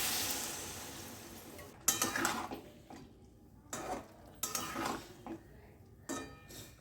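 Koi fish curry is stirred in a pot after water has been added, giving a few separate bursts of scraping and clinking from the utensil against the metal over a low simmering background.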